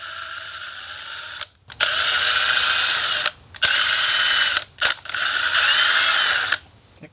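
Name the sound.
ratchet loosening cylinder bolts on H1 engine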